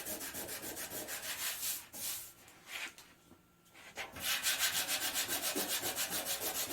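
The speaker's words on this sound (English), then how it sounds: "to take a rock chip, you have to sand a great big area" Hand sanding on the body of a 1963 Chevrolet Impala around a rock chip, a steady back-and-forth rasping in rhythmic strokes, close and fairly loud, with a short pause in the middle before the strokes resume.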